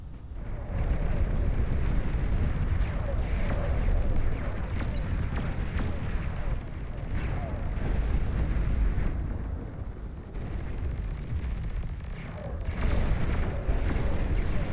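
A nuclear missile launches and detonates in the strategy game Beyond All Reason, a long loud roaring rumble that swells and surges in waves for several seconds, with no voice over it.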